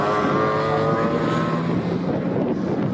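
MGB race cars, including the number 17 car, race at the Snetterton circuit in a Swinging Sixties series event, their engines roaring loudly and continuously as they pass, with some wind noise.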